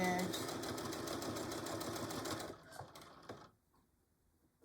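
A sewing machine stitching fabric for a Christmas pincushion, a steady close mechanical whirring run lasting a couple of seconds that stops abruptly, followed by quiet handling.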